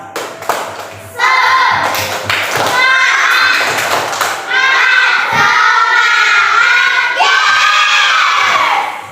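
A class of children doing a rhythmic spirit clap chant in a school classroom, loud shouted chanting in unison punctuated by sharp group claps and thumps, in repeated bursts with brief pauses between.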